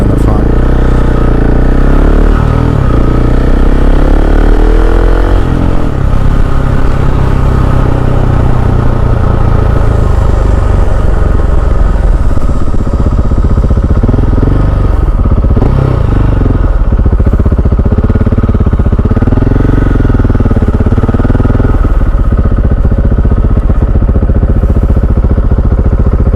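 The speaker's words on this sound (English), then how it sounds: "Riding this motorcycle around" KTM 690 SMC R supermoto motorcycle being ridden, its single-cylinder engine loud and close, rising and falling in pitch through acceleration and shifts, with wind rush, mechanical clatter and occasional rider talk over it.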